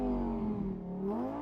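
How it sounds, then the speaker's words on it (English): A Lamborghini Huracán EVO Spyder engine hums steadily and close, with a deep, smooth idle that rises slightly toward the end, alone with no talk. "Flip open the switch and start the engine."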